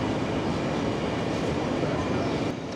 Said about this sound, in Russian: Посмотрите на наш поезд. Это медно-золотой красавец. Называется Стадлер Траверзо.